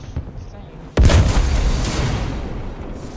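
A single heavy tank cannon shot in War Thunder booms sharply after a brief quiet, then a long rumbling tail, loud and close.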